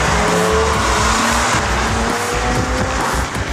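A BMW 1 Series M Coupé roars on a race track, its engine loud and close and pulling hard, with tires squealing throughout.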